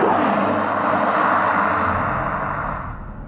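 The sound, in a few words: Bentley Flying Spur Mulliner Hybrid engine accelerating on open road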